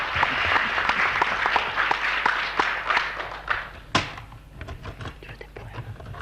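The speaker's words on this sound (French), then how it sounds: "Formidable, cela mérite au moins un applaudissement." Listeners at a Paris lecture break into applause that starts full and dense, then thins out into scattered individual claps, with a sharp thump near the middle.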